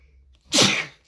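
A single sharp human sneeze bursts out loud and close after a moment of near silence, a quick intake followed by a forceful, breathy explosion that fades within half a second.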